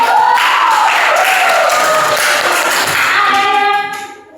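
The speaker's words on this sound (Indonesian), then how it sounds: "tepuk tangan untuk kelompok 1" Students in a classroom applaud and cheer after a group presentation, a dense, loud burst of clapping and crowd voices that carries on steadily before fading at the end.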